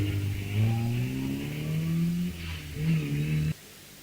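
Hillclimb race car from the 1100 to 1600 class at Wiscombe Park, its engine revving hard and rising through gears, loud and fairly close, then cutting off abruptly near the end.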